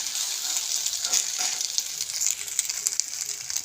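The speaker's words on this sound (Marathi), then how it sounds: "ह्याला छान असं व्यवस्थित भाजून घेऊया." Egg Maggi paratha frying in a pan, a steady bright sizzle with soft crackles running throughout, close and fairly loud, with no talking.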